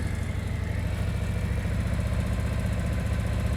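A motorcycle engine runs at a low, steady idle-like burble during advanced slow-speed riding practice in Nevada, continuous and fairly close with no talk.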